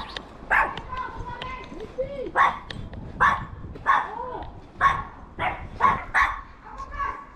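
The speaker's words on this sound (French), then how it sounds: "Ah, il gueule les chiens, mais pas nous." Small chihuahuas bark in repeated sharp yaps and yips at close range, the bursts coming in quick irregular clusters over a busy outdoor background.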